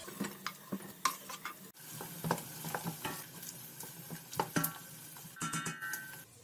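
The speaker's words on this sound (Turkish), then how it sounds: "Pişmekte olan soğanların üzerine doğradığım biberleri ekliyorum." Soft sizzling of chopped peppers frying with onions in a pot for a meatless summer vegetable stew, with scattered clicks and scrapes of stirring.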